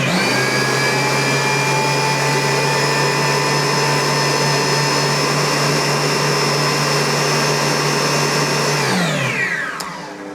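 Kenwood Chef XL stand mixer motor running unloaded off a power station, a steady loud whirring hum with a constant whine that holds for about nine seconds, then winds down as the motor is switched off.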